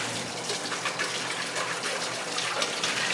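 Pork and sayote boiling in a pot, giving a steady, dense bubbling and hissing that stays even and fairly loud throughout, with no talk.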